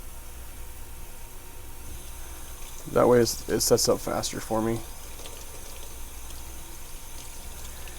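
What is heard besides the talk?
warm water poured for mixing dental stone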